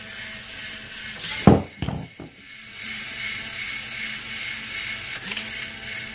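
Robot servo motors whir and jitter in short bursts, with a few sharp ratcheting clicks and buzzes up close over a steady background hum, and no one speaking.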